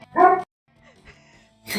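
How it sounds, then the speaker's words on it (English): A single short dog bark from the dating-sim video game Monster Prom, fairly close and clear, followed by a quiet pause and another brief burst of sound. "Gives a dog bark."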